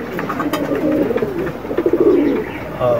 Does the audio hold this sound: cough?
no